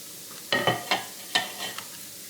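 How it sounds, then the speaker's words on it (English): Singing hinny batter is run onto a hot griddle greased with shortening. A few short, crackly sizzle bursts rise and fade in quick succession, close and moderately quiet, with no talk. "Just run it onto the hot griddle."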